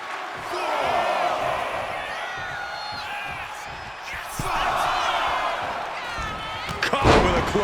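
A clothesline slam in the WWE 2K25 wrestling video game, a heavy thud landing over steady arena crowd noise and whoops, with a louder impact near the end.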